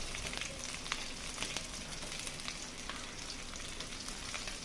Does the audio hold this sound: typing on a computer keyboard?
no